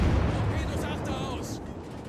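Tier 10 German destroyer Z-52 firing its guns in World of Warships, a burst of booming shots with rumbling decay, fairly loud and unaccompanied by talk.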